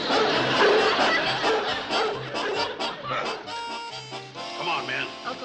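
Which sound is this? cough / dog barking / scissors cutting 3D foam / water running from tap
dog barking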